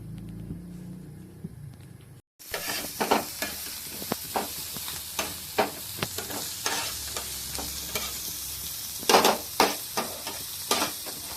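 Onions frying in a pan for bread aloo paneer bajji, a sizzling hiss broken by repeated sharp stirring scrapes and clatters, close and fairly loud after a quiet opening second or two.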